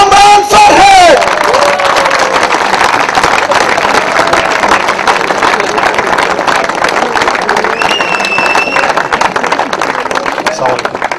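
A crowd at an evening product distribution event in Pakistan breaks into sustained, loud applause and cheering as a guest is welcomed onstage, a dense wall of clapping with whoops and a voice on a microphone at the start.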